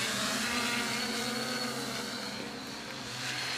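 An FPV drone flying on BrotherHobby Tornado T5 3115 Pro 1050KV motors gives a continuous buzzing whine with a harmonic drone, moderately loud and fairly steady, shifting slightly in pitch as it flies, with no speech.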